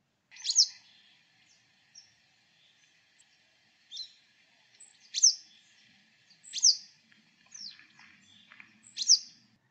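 A yellow wagtail gives a series of thin, high seep calls, about seven short sharp notes spaced irregularly, clear and alone against silence.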